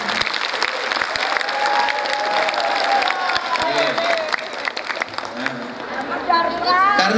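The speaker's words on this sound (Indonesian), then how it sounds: "Boleh tepuk tangan untuk ibu-ibu." Sustained applause from an audience at a Muhammadiyah gathering, a steady dense wash of clapping filling the room for several seconds, with murmured voices and crowd noise mixed in and a voice rising near the end.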